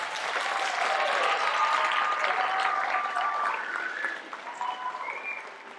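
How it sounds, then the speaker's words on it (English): An audience at a 7th and 8th grade school winter concert applauds the orchestra, sustained clapping that stays full before gradually thinning out toward the end. "I would like to ask everybody to give the orchestra another round of applause."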